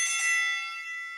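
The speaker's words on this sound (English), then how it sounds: "Smash that notification bell." A bright notification bell rings once and then decays smoothly, a clean metallic ding heard alone with no voices over it.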